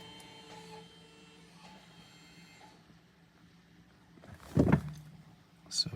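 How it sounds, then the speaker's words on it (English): The electric parking brake calipers on a 2020 Subaru Ascent wind the pistons back out, giving a faint, close motorized whir that stops and starts, followed by a louder mechanical clunk and a brief rattle near the end. "You can hear the calipers winding the pistons back out."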